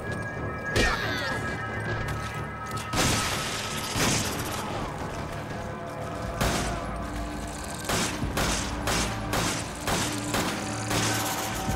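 Pistol fire in Resident Evil 5, a series of sharp, fairly loud shots spaced irregularly over a low background of game ambience, some in quick pairs and others isolated.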